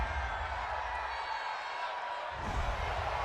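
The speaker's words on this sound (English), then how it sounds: "this crowd does not like that call" A large stadium crowd at an NFL game between the Pittsburgh Steelers and Philadelphia Eagles roars in a broad, steady wash of disapproval over a roughing-the-passer penalty, swelling louder near the end.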